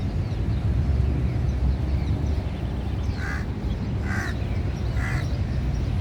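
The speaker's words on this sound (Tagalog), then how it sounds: "Daming ibon." Crows calling in a park in Sharjah, United Arab Emirates: three distinct caws spaced about a second apart over a steady background hum of outdoor noise.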